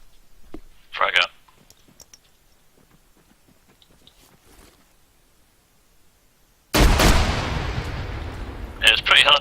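A grenade blast in ARMA 3 with ACE mod, a sudden loud boom partway through that rolls into sustained rumbling, preceded by quiet clicks and brief bursts of sound.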